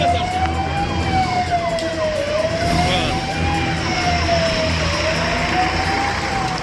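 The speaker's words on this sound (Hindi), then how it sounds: "ये पुलिस की सायरन की आवाज" A police siren wails, sweeping slowly up and down in long cycles, steady and moderately loud over a background rumble of traffic, during a riot in Sasaram, India.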